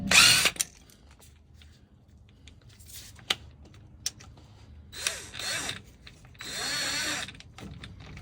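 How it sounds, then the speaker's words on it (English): An electric impact gun works on bolts of a 2000 Dodge Cummins 2500 rear differential, in several short bursts of buzzing hammering separated by pauses and clicks, close and fairly loud. "just gonna use a little electric impact gun"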